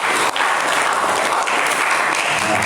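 Loud, dense audience applause at an Indonesian cultural gathering, a continuous roar of many hands clapping close by for the whole stretch, with no speech on top.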